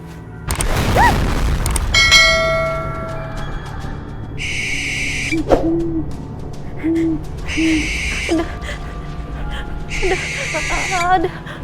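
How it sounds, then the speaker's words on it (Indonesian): Low, hollow hooting calls repeat several times at steady intervals, with bright high whistling tones in between, moderately loud against a quiet background. "Ada suara burung."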